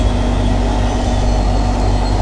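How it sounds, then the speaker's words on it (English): A Moroccan passenger train rumbles steadily and loudly, with a deep continuous low drone and broad rolling noise throughout and no break. "this is the train"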